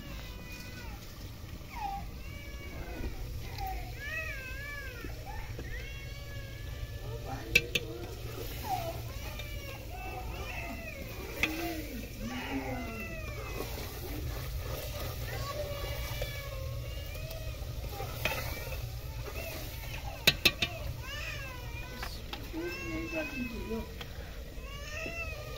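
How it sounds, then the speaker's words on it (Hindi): Two young children cry in rising, wavering wails that overlap at moderate distance, with adult talk and scattered clatter around them in a village home. "पहले खेलते रहे अब रोने लग गए।"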